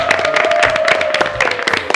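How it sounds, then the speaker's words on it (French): Audience applause at the close of a French-language TV talk show episode, dense overlapping clapping mixed with crowd noise and a sustained tone running underneath. "Applaudissez pour vous."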